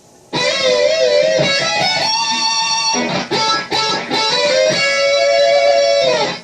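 Electric guitar licks play with a harmonizer adding a parallel harmony line in thirds, bright sustained melodic phrases with brief pauses, loud and without talk.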